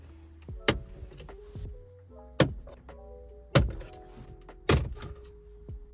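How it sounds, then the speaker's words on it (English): Plastic shift console trim on a 10th-gen Honda Civic hatchback Sport pried loose, four sharp snapping thunks at irregular intervals, close and distinct, with faint rattles between, no voices. "You're just gonna pop it up like that."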